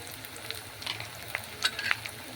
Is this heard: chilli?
yes